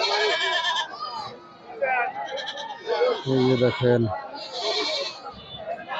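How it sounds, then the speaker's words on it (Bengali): Several goats bleat loudly and repeatedly nearby at a goat market while someone talks over the busy crowd noise. "খালি ছাগল আর ছাগল"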